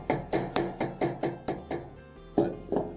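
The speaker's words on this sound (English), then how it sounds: "we've hammered the ear wire, that hardens it" A hammer strikes a jewelry ear wire to harden it, about ten sharp metallic taps in a steady rhythm with a brief pause near the end, close and clear with no talking.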